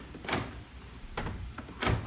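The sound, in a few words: car door lock actuator locking and unlocking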